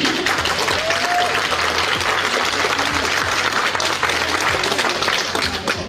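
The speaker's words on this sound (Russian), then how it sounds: "аплодировала преимущественно левая часть зала" Loud, sustained applause fills a meeting hall during a residents' meeting in Nagaevo, Ufa, Bashkortostan, coming mainly from the left side of the room and thinning slightly only at the very end.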